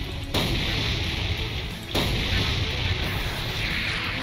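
Cannon fire in the video game Captain Wayne: Vacation Desperation: a loud, dense, roaring blast that sustains throughout, with fresh booming onsets near the start and again about two seconds in.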